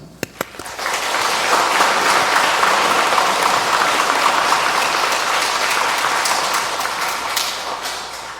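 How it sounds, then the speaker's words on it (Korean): Enthusiastic congregation applause at a Catholic Sunday Mass for Laity Sunday, a couple of sharp early claps swelling into a loud, sustained wash of many hands that tapers slightly near the end. "여느 때보다 더 열렬한 마음의 박수를 보내주시면 좋겠습니다"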